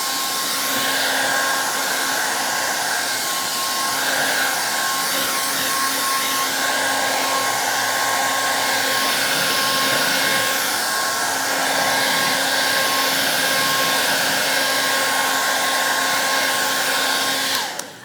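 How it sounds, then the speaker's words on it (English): A blow dryer on hot, drying paint on a round wooden door hanger, with a steady loud whirring blow running almost continuously, close up and without talk. "Okay, I'm gonna hit this with a blow dryer."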